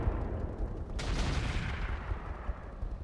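Turret gunfire in the Roguetech mod of BattleTech, a continuous rumbling barrage of shots that swells sharply about a third of the way in and keeps pounding steadily to the end.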